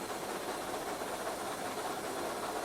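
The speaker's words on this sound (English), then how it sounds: "Injector's just been put on." A steady, broad hiss of steam from a running steam locomotive's injector, the Taw Valley, runs unbroken throughout, loud and close, with a faint engine rumble underneath and no voices.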